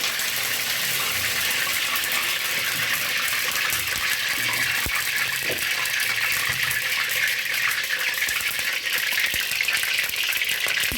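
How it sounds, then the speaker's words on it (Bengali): Dried red chillies crackle and spit in hot oil in a pan, a loud, dense, continuous frying hiss with scattered sharp pops, close up and steady throughout with no talk. "শুকনো লঙ্কা ফোড়ন দিয়ে দিলাম।"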